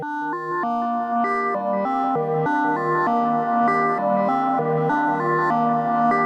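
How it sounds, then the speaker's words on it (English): A Eurorack modular synthesizer, sequenced by a Make Noise 0-CTRL through a Mimeophone, loops a short eight-step melodic sequence, even notes repeating in a steady pattern, sustained and clean with no voices. "we have a repetitive 8-step sequence"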